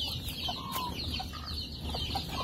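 A brood of young chicks peeps constantly, with many overlapping high chirps nearby and a few longer calls standing out.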